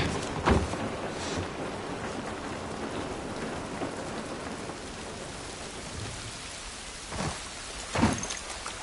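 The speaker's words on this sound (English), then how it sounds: "This rain ain't gonna do us any good." Continuous rain falling in The Last of Us Part 1, a dense hiss of drops on surfaces with a few louder splashes and thumps breaking through.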